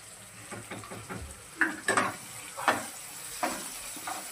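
Ginger-garlic paste fries with tomato in a pan, a soft steady sizzle broken by several sharp spoon clanks and scrapes against the metal, close and clear, with no talk.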